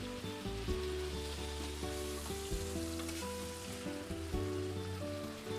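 Warm German potato salad with a Dijon mustard dressing sizzles steadily in a pan, a close, continuous frying hiss with no one talking.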